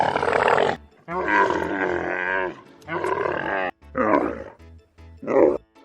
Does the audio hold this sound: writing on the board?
no